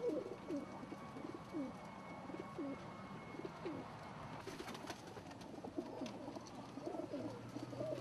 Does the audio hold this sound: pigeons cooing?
yes